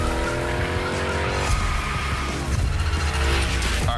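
A car drifts through slides in The Crew Motorfest, with a steady roar of engine and sustained tire squeal that holds loud and close throughout, shifting pitch as the drift changes.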